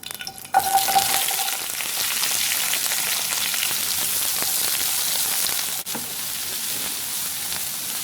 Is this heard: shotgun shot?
no